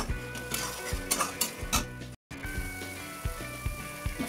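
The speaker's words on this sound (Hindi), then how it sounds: "मसाले हमारे भून रहे हैं।" Spices for kadhi roast in a pan, a soft sizzle running under repeated close clinks and scrapes of a spoon stirring against metal, with a brief gap midway.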